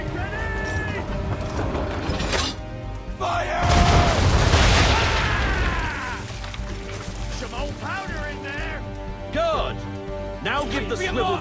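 Ship cannons boom in Assassin's Creed III naval combat, a heavy blast swelling mid-clip amid shouted orders, meowing-like creaks of rigging and further thumps.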